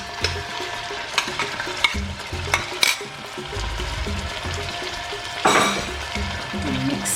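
Onion, garlic, ginger and scotch bonnet pepper frying in a pan for aubergine stew, a continuous close sizzle broken by scraping stirs and a few clinks of the utensil against the pan.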